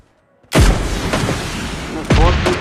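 RPG explosions in the mobile game PUBG Mobile Lite: two loud, close booms about one and a half seconds apart, each followed by a rumbling tail.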